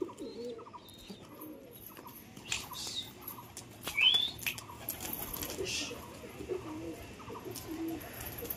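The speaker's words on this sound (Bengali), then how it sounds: "চারটে কবুতর ফ্লাই দিলাম।" Four pigeons released after a month indoors, wings flapping in a few brisk bursts amid soft cooing and quiet surroundings.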